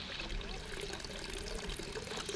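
Water from a shower pouring steadily into a bucket in the Hello Neighbor game, a continuous broadband splashing rush with a low steady rumble, even and unbroken throughout.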